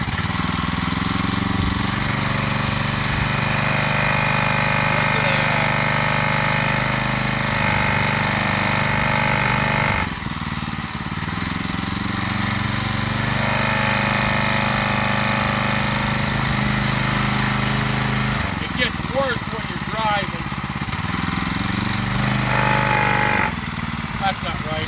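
A TrailMaster MB200 mini bike engine runs steadily and loudly at close range, with a persistent mechanical rattle through the idle and a brief dip partway through, while a person talks over it.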